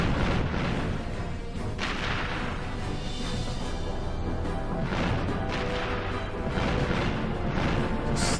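An enemy turret in Ratchet & Clank fires continuously through a dense, loud wall of game combat, with repeated booming blasts and crashes and no letup.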